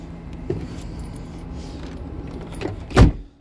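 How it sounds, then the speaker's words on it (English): A Chevy Express van's door is shut with a single solid thump near the end, preceded by faint rattles and handling noises close by. "Shut this door."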